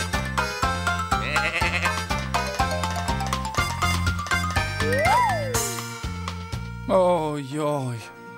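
Cartoon sheep bleating with wavering vocal cries over bouncy music with a steady bass pulse and light jingling.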